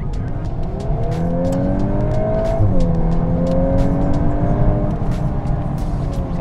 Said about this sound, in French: Écoutez un petit peu la sonorité.